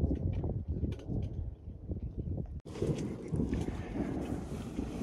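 Wind picks up outdoors ahead of a thunderstorm, gusting and buffeting the microphone in a loud, continuous roar that surges stronger partway through.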